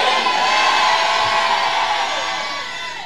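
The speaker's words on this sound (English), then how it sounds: "If that person is here, scream a louder amen." A church congregation at a convention service erupts in loud shouting and cheering, a dense roar of many voices that holds steady and then slowly fades.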